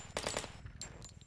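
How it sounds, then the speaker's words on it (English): Short bursts of rapid machine gun fire in the shooter game Delta Force Xtreme 2, a quick rattling volley followed by a few scattered distant shots, fairly faint. "Hearing a lot of gunfire from over here."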